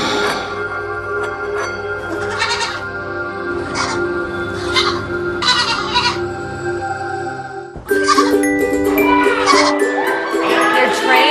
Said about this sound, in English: They're trained yoga goats.